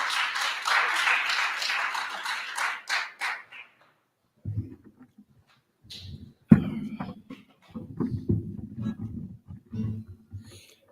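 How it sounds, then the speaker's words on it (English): Applause at a Sunday addiction-recovery ministry gathering as a guitarist is welcomed, a brief burst of clapping from a small group in the first few seconds that trails off, followed by low rumbling movement and scattered thumps. "Y'all give John a round of applause."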